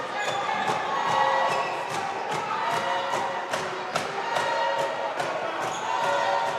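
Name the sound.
basketball crowd cheering at game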